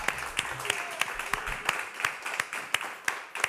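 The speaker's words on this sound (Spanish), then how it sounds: "tienen que darle un aplauso a él" An audience claps during a Spanish-language bar-style TV interview show, with sharp irregular hand claps over a dense crowd wash. The applause stays moderately loud and steady throughout, with some talk mixed in underneath.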